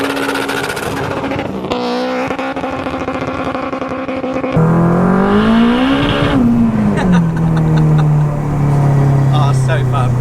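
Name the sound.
turbocharged Honda Civic Type R EP3 car accelerating hard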